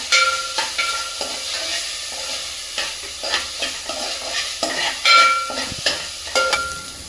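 Ginger garlic paste fries in a pan for chicken pulao, giving a steady close sizzle broken by repeated scraping strokes of a stirring spoon, with no talking.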